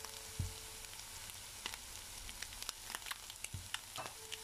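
Eggs fry in a pan with a soft, steady sizzle, quiet and close, broken by a couple of low knocks and light crackles.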